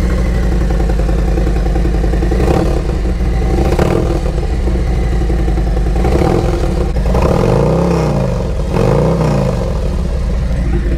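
A 2023 Harley-Davidson Highway King motorcycle engine idles loud and close, a steady deep rumble punctuated by several throttle blips that rise and fall in pitch.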